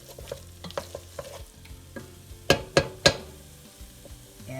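Flour being stirred into a pot of soup, with soft scraping and stirring strokes, three sharp clinks of the spoon against the pot partway through, and a low simmer underneath.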